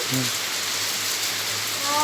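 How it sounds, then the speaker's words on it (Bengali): Very heavy rain pours down in a dense, constant roaring hiss, with brief bits of voice at the start and end. "একদম ফ্যান্টাস্টিক বৃষ্টি, এত জোরে বৃষ্টি জীবনে হয়নি।"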